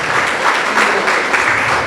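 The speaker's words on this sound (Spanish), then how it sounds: "Denle un aplauso al Señor" A church congregation claps together in a steady, dense burst of applause, close and fairly loud, with no talk over it.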